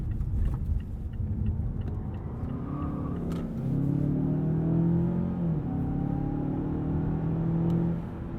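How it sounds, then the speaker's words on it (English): A 2020 Mazda 6 sedan accelerating from a standstill up to highway speed, heard from inside as a steady engine rumble with rising tones through the gear changes, moderately loud and with no talking. "Do a little 0 to 60 and 60 to 0 here."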